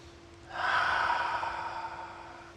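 A single deep exhale during a yoga relaxation pose, a close, breathy rush of air that swells after a short pause and slowly fades, heard alone over a faint steady hum.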